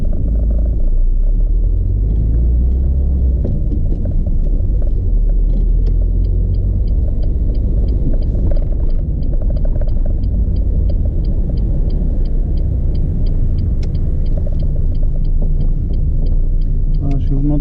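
A car drifts slowly backward during a driving lesson, its engine a steady low rumble throughout with a faint ticking, like an indicator, while an instructor and a learner talk inside.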